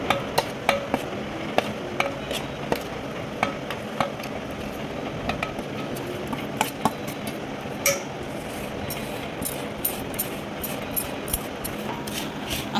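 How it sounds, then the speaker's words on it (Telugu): Raw mango chutney mixture, cooled, being mixed by hand in a vessel, with scattered sharp clinks and scrapes of a spoon against the container over a steady low background, close and alone. "అంతా కలుపుకోవాలి."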